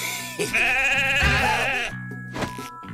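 A goat bleats in an animated cartoon set around an escape from a prison, a loud wavering cry that fills most of the three seconds, with brief scuffs and clatter before and after.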